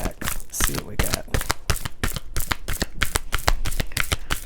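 A deck of tarot cards is shuffled up close, a rapid run of crisp riffling snaps and flutters in uneven bursts, with no voices.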